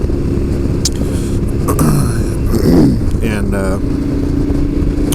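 A 2015 KTM 1290 Super Adventure engine rumbles steadily while riding on the road, with shifting pitch and a brief rise in revs, under a rider's talking.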